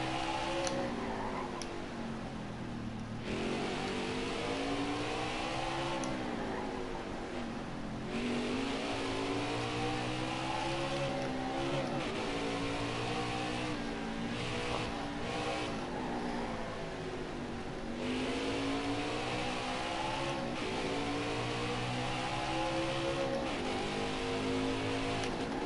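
A NASCAR race car engine in NASCAR Heat 5 at Mid-Ohio drones steadily and loudly, with pitch rising and dipping through gear changes and revs across the lap, no talk.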